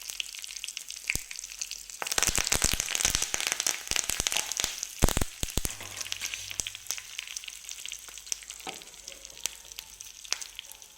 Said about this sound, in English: Now add curry leaves to the pan as well and let them heat for 1 minute.